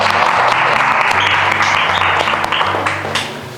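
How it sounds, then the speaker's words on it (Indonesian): Applause from the audience at a lecturer certification teaching session, dense sustained clapping over a low tonal hum, tapering slightly toward the end. "Tepuk tangan lu."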